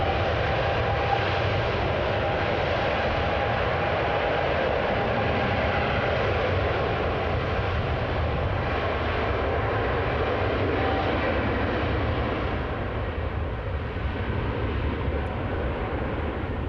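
A fixed-wing airliner arriving at Amsterdam Schiphol Airport after a storm, a loud steady engine roar and rumble heard from the ground at a distance, sustained throughout with no speech.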